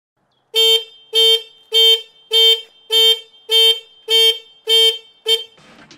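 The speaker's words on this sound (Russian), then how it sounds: "Сигнализация активируется при любом движении мотоцикла" Motogadget motorcycle alarm set off by movement of the bike, sounding nine loud, evenly spaced electronic siren bursts with a steady rhythm, the last one cut short, with no talking.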